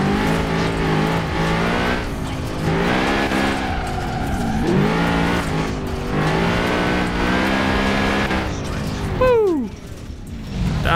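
A BMW X6 M drifting in Forza Horizon 4: a loud, close engine holds high revs and swings up and down through the gears, with tire squeal, and a sharp rising rev near the end.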